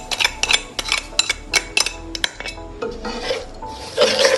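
A spoon scrapes and clinks against a pan as sugar is stirred into a coconut mixture, with sharp, uneven metallic strokes, close and loud, and no voices.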